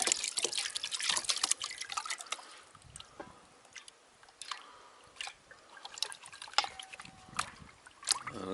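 Water trickles and drips as black sand is panned in a small pan of clean water while prospecting in the Baja desert, with soft splashes and irregular droplets close by and no talking.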